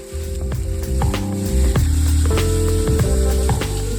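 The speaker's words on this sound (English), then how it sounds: "I just drop them in like wherever there's an available side in the pan and let them sizzle" Onions sizzle and crackle loudly and continuously in a hot frying pan alongside T-bone steaks, close by, with a steady low hum underneath.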